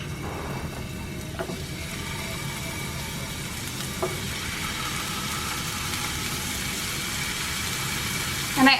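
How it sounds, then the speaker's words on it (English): Meatballs cooking in olive oil in a pan give a low, even sizzle with faint mechanical hum beneath and a brief clatter near the end. "now I'm going to add some olive oil in the pan and then go ahead and like cook them until they're crispy and brown on the outside"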